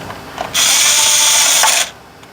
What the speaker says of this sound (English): if you're using a drill like this, it's better to just use a screwdriver